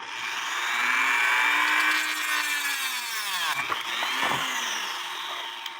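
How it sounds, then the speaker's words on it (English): A cutting tool grinds a slot into a screw from an 1860 Black Forest wooden-movement shield clock, a loud continuous whining cut with a falling pitch and two short breaks near the end. "So you take this cutting tool and you put a slot in it."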